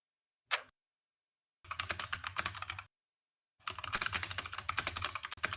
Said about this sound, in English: My typing is loud, isn't it?